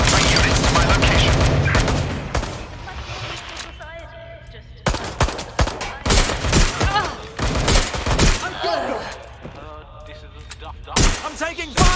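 Gunfire from the video game Watch Dogs Legion rings out in loud bursts: a long opening volley, then sharp clustered shots and rapid fusillades with short pauses, with game voice lines heard among them.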